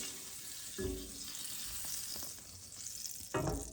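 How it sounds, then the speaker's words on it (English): Butter sizzles and fries in a hot frying pan as it is swirled around before pancake batter goes in, a faint, steady crackling hiss with a couple of brief louder scrapes. "we're going to go ahead and put a little piece of butter in there, right? Swirl it around"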